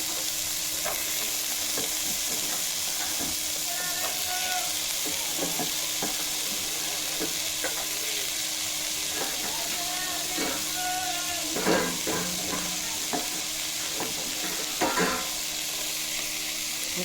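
Vegetables frying and being stirred in a pan, a continuous close sizzle with regular scraping strokes of a spatula and occasional louder metal knocks.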